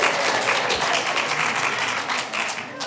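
Audience clapping erupts during public comment at a city council meeting, a dense steady patter of many hands lasting the whole moment, fairly loud and close, without clear speech over it.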